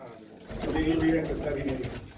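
Soft, low cooing from pet pigeons kept in a village loft near Samrala, Ludhiana, rolls on nearby while someone talks over it.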